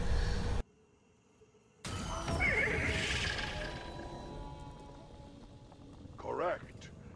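A celestial horse in Destiny 2 lets out a loud, quavering neigh that rises and falls, followed by a fainter whinny near the end, with game effects and a low hum underneath.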